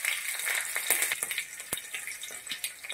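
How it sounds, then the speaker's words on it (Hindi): Mustard seeds and chili sizzle and crackle in hot mustard oil for a short tempering, giving a close, busy hiss with sharp pops scattered throughout. "तेल गर्म हो गया, मम्मा सरसों और मिर्चा का छौंक लगा रही है।"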